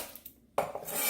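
Kitchen knife clacking on a cutting board while trimming the ends off a red onion: a few soft taps, then one sharper chop followed by brief scraping, close and fairly quiet.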